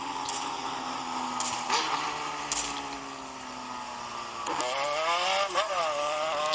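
A small motorcycle being ridden nearby, its engine droning at moderate volume and rising in pitch as it revs and accelerates, with a sharper climb toward the end and no speech.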